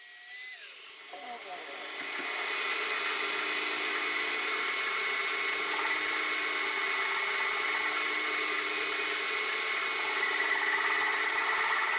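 A metal lathe spins up while cleaning up a metal part for adapting a drilling machine, rising after a couple of seconds into a steady high whine with a continuous hiss of cutting.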